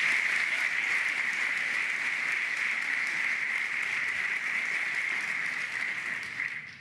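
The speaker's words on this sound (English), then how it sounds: "Please, applause for all of the individuals that make tonight possible." Steady applause from a large crowd at a school district retirement ceremony, sustained and even throughout, tapering slightly at the end.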